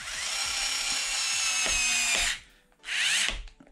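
A power tool drives nuts onto a beadlock wheel of a Cross RC HC6 US Army RC truck, giving a close, high whine in two bursts. Small clicks sound during the first burst, and a short pause comes between the bursts.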